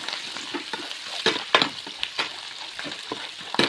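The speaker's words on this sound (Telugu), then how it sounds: "ఇలా కలుపుతూనే ఉండాలి, లేదంటే మాడిపోతాయి. మాడనివ్వకుండా ఇలా కలపాలి." Curry leaves and chillies in a tempering sizzle and crackle in hot oil in a pan while being stirred, with a steady frying hiss broken by several sharp, close spatters and scrapes.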